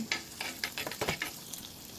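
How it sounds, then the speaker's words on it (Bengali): Chopped ginger fried in ghee in a pan, giving a soft steady sizzle with repeated stirring scrapes and clinks at close range, no talking. "ঘি দিয়ে দিলাম এখানে আমি অল্প একটু আদা কুচি নিয়েছি লাল করে ভাজবো"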